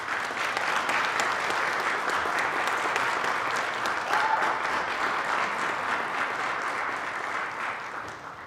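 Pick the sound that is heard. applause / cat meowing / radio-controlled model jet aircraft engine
applause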